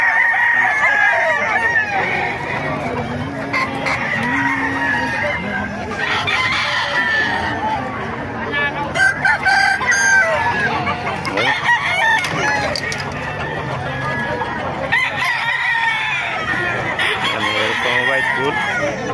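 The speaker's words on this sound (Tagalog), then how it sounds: "Kasi napakarami manok dito sa Bukawi." Many chickens and roosters at a poultry market in Bocaue crow and cluck together in a dense, continuous din, with people talking in the background throughout.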